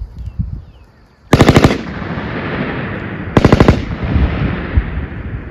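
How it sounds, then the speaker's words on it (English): Light machine gun firing rounds at a target on a range, two loud, close bursts of about five rapid shots each, separated by a couple of seconds of echoing decay. "So basically spitting out 5 rounds at the target."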